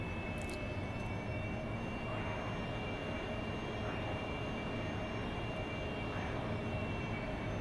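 A steady, loud roar from an AV-8B Harrier jet engine flying in the DCS World combat flight game, holding an even broadband drone throughout with no talking over it.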